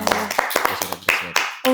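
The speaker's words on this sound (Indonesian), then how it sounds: "Tepuk tangan." A few hands clap in uneven bursts during a school interview about a robot that won first place in a competition, mixed with voices and brief gaps of near silence.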